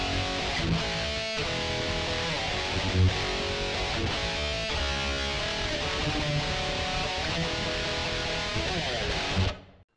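Dense full-band rock mix, an electric guitar part over driving bass and drums, loud and constant throughout before fading out abruptly at the end.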